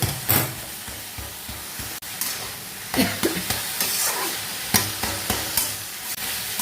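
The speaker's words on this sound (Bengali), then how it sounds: "এইবার শাকটাকে সমানে নাড়বো নাড়লেই দেখবো এটা মোটামুটি মিশে যাবে" Cooked, softened leafy greens (saag) stirred in a pan with little oil, repeated scraping strokes of a spatula over a low frying sizzle, close and clear, no talking.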